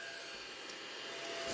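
A small toy vacuum cleaner runs with a steady, thin whirring hiss close by, growing slightly louder near the end.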